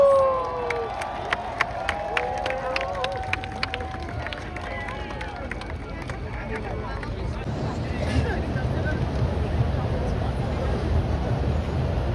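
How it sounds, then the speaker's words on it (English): A crowd at a Tibetan candlelight vigil in Times Square cheers and calls out, faint at first under a voice, then swelling into a broad, sustained roar of many people. "For those who can't see, people are cheering"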